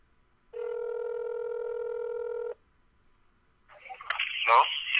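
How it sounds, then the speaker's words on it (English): A business telephone gives a steady dial tone for about two seconds, loud and close, then stops; a voice begins speaking afterward. "this is your business phone"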